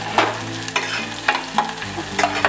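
Green chillies sauté in a hot pan for a Kerala manga pachadi, with a soft steady sizzle broken by repeated scraping stirs of a spoon against the pan.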